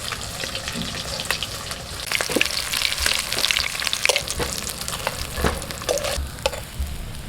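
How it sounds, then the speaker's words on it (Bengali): Pieces of hilsa fish fry in hot oil with a steady, dense sizzle and crackle, punctuated by scattered sharper pops and spatters; no voices. "এইভাবে আমি সব মাছগুলো ভেজে নিচ্ছি।"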